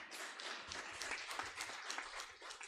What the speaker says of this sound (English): Can I have a round of applause for Professor Ruxana?